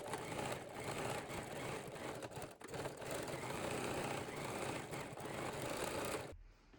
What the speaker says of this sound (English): Sew the open edge of the bow straps and secure also the ends.